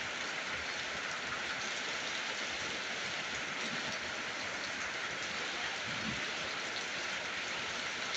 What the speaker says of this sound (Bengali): এমন পরিমাণ বৃষ্টি হচ্ছে।